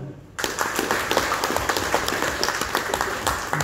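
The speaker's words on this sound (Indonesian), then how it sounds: "Mari kita tepuk tangan semua." An audience breaks into applause at a motivational hypnosis seminar, dense steady clapping that starts abruptly after a brief quiet moment and carries on evenly to the end.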